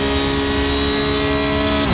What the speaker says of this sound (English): The sound of this car is immense, like.